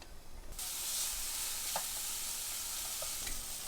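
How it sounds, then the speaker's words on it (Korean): Spam, diced carrot and onion sizzle in an unoiled frying pan, frying in the meat's own fat: a steady, dense hiss with a few soft scraping stirs, close and continuous throughout. "스팸하고 그다음에 당근하고 양파 넣어서 볶아주세요"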